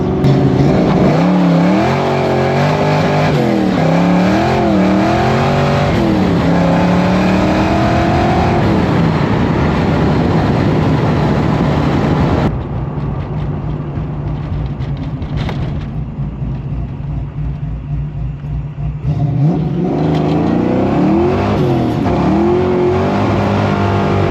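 A car engine fitted with a B303 cam and tuned to mimic a solid roller, loud close lumpy idle and repeated revving with choppy rises and falls, dropping to a steadier drone midway before lumpy revs return.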